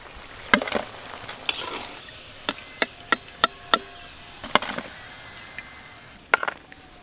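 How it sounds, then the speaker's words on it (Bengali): Potato-stuffed semolina snacks fry in oil beneath a run of sharp, evenly spaced knocks, like a spatula tapping the pan, over a low sizzle. "এই দেখুন কি সুন্দর ভাজা হচ্ছে,"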